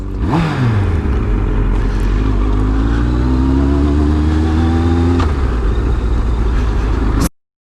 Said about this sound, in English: The old Mini Cooper S's.